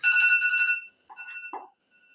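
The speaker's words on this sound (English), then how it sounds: "We also have a different timer now. As you can tell." A new game show timer alarm goes off, a bright electronic beeping tone held for under a second, followed by a shorter second chirp and a faint trailing tone, clean and isolated.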